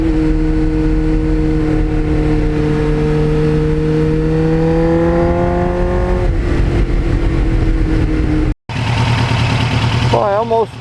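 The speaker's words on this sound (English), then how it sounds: "it just gives you a nice mellow tone while you're riding a bike, while you're just listening to it going through the gears" A Kawasaki Ninja motorcycle engine with about 37,000 miles drones steadily and loud, its pitch climbing through the gears before dropping at each shift, with a brief cut near the end.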